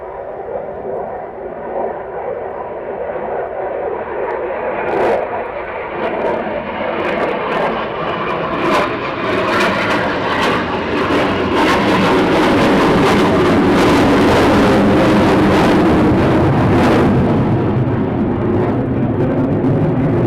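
A Eurofighter Typhoon jet at RAF Coningsby makes a low approach and overshoot, its engine roar building to a loud, harsh crescendo overhead and then easing off as it climbs away.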